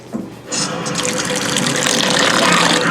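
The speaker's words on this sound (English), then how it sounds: "So we're gonna add some water." Water pours steadily into a cooking pot of Utan Bisaya soup with a continuous splashing gush that builds slightly in volume, close by, with no talking over it.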